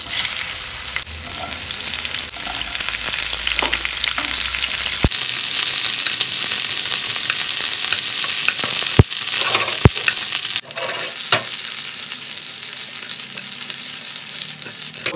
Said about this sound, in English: we are going to fry the bhindi in this oil